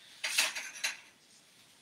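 A whisk scrapes around a single pan of spiced coffee phirni in a few quick, quiet metallic strokes. Short pauses fall between the bursts.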